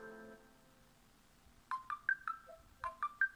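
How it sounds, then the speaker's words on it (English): A short electronic ringtone on an Essential PH-1 smartphone: two quick bursts of bright, bell-like chiming notes with a brief pause between, clear and fairly soft, no talking. "There's a good variety of ringtones."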